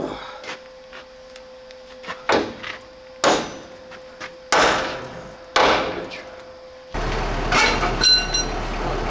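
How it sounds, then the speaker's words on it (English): Nuts are cut off bolts on a 1984 GMC General truck, heard as a series of sharp, loud metallic bangs and clanks at irregular intervals, followed by a steady grinding hiss near the end. "why are you cutting the bolts or the nuts off the bolts instead of taking them out?"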